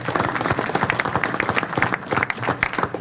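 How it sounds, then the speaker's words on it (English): An audience at a Boston startup energy event claps loudly and continuously, dense overlapping hand claps close by with no voices. "Let's have a round of applause for that."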